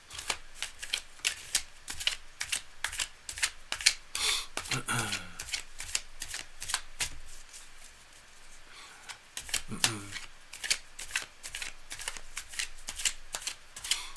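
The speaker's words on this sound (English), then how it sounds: "I'm just shuffling up for the next reading." Rapid riffling of tarot cards repeated in quick bursts, crisp papery flutters close by, with brief pauses and soft speech murmurs between shuffles.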